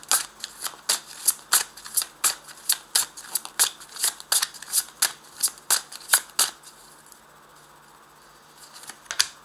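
Tarot cards shuffled and drawn by hand: a long run of quick, crisp riffling snaps in a steady rhythm, close and clear, ending in a quiet pause before one last card flick.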